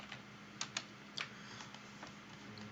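Quick, light keystrokes on a computer keyboard as a search is typed into PubMed: a few separate soft taps, spaced irregularly over a faint steady background hiss.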